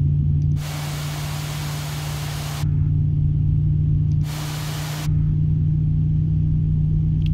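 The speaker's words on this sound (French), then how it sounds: "Starting engine one." Airbus A321neo CFM LEAP turbofan spooling up during start in Microsoft Flight Simulator, a steady low hum and rumble joined by two bursts of loud broadband hiss, the first lasting about two seconds and the second about one second.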